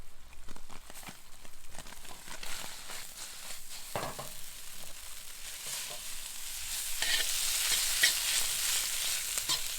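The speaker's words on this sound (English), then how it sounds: "all you do, you toss the black spaghetti" Cooked black spaghetti being tossed in a pan with black pepper and chili flakes, giving a steady sizzle with scraping and stirring clatter that grows slightly louder toward the end, no voices.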